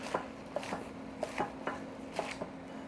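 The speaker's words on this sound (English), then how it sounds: "So you just need to chop it. I like to chop it small enough where you can eat it with a spoon." A knife chops washed greens small on a cutting board, with several crisp, evenly spaced strikes in a steady rhythm, close and clear over a faint background hum.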